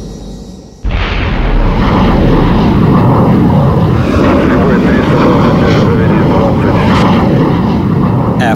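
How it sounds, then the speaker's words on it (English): A MiG-19 jet fighter is blasted off a mobile launch site by a powder booster, a sudden loud ignition followed by a sustained roaring engine rumble that stays strong and close to the end. "The MiG-19 mounted on a mobile launch site was virtually shot into the sky"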